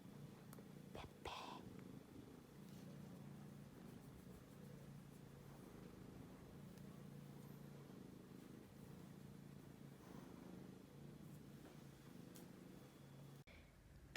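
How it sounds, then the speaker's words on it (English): A house cat purrs softly and steadily up close in a quiet room, a low rhythmic rumble that continues almost unbroken, with faint whispering-like noise in the background. "Can you hear her purr?"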